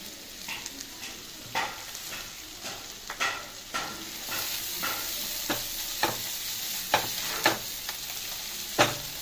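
Masala spices for restaurant-style palak paneer fry and sizzle in a pan with a pinch of hing, while a spoon scrapes and stirs in steady, repeated strokes close by, with no talking.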